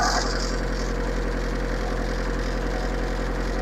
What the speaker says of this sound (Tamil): வண்டி சவுண்டு கேட்டிங்களா